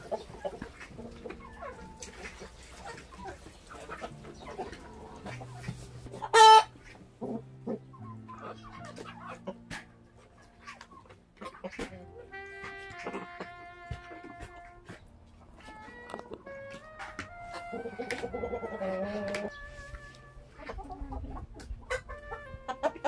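Cheonggye chickens on a farm cluck in scattered bursts near and far, with a rooster's sharper call, other fowl, a dog and faint speech mixed into a busy barnyard.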